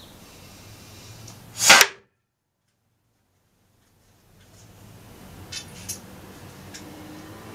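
A single sharp blowgun dart strike lands with a quick percussive crack, followed by near silence, then faint room noise and a couple of soft distant taps.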